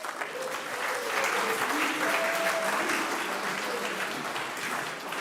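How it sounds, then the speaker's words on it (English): Steady audience applause at a meditation conference ceremony in Bhutan, a dense even patter of many hands that holds for several seconds with a faint murmur beneath. "Please, round of applause."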